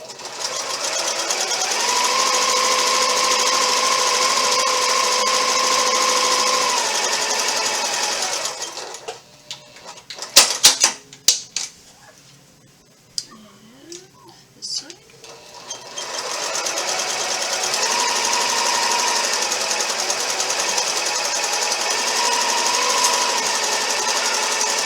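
A sewing machine stitches an Ohio Star quilt block, running steadily and loud, pausing for a few seconds of small handling clicks and rustles midway, then whirring on again.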